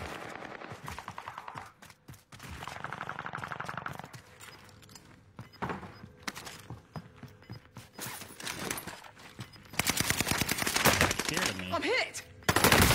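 Video game gunfire crackles in bursts, with scattered shots early and a dense, loud rapid volley toward the end, mixed with a few thuds and some background voice chatter.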